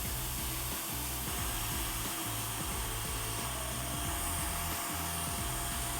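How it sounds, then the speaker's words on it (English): A vacuum cleaner used on facial skin to pull out blackheads and whiteheads runs with a continuous motor whine and a rough, fluttering suction noise, steady and close, with no talking. "that's how you use a vacuum cleaner to suck out all your pimples"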